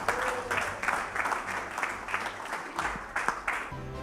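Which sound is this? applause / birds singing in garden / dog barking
applause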